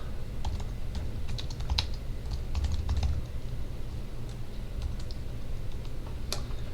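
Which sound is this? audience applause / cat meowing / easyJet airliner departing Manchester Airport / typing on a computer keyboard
typing on a computer keyboard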